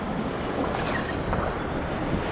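Ocean surf breaking around a wader in the shallow breakers off the Gulf coast near Galveston, a steady washing roar mixed with wind buffeting the microphone, close and continuous with no voices.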